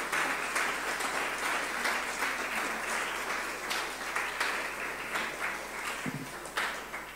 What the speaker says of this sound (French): vous êtes censé applaudir